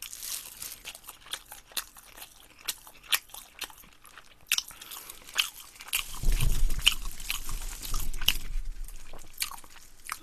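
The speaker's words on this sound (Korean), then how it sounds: "니아우르님 저 빨리 먹을게요" Fried chicken on the bone from a Korean mukbang is bitten and chewed close to the mic, giving repeated crisp crunches and crinkly bites. A heavier, wetter chewing patch comes in the second half, with no speech.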